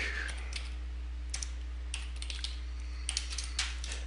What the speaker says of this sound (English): I'm just randomly typing these in